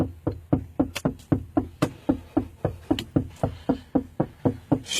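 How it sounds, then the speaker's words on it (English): Steady knocking on a car, about twenty sharp hollow raps in an even, insistent rhythm, loud and close with no talk over it. "He been knocking for about 10 minutes."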